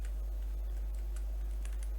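Typing on a computer keyboard while entering a name into a Python program in PyCharm, a quick run of light clicking keystrokes under a steady low hum.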